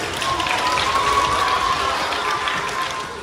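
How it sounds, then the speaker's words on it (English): Crowd applause for volunteers at an elementary school event, a dense, steady wash of clapping sustained throughout with a faint tone running underneath. "Give our volunteers a round of applause"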